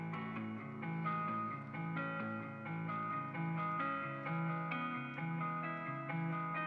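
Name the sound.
guitar rendered with FL Studio Hardcore distortion effect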